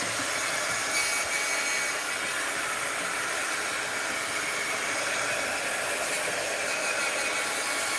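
A dryer blows hot air over a freshly painted mixed-media art journal page, giving a constant close hiss and whir at even loudness throughout.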